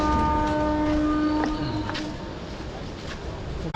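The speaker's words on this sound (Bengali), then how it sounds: "এই মাত্র ট্রেন ছাড়লো" A departing train rumbles steadily, with a long horn tone early on and rail noise continuing, loud and close from on board or beside the track, with no talk.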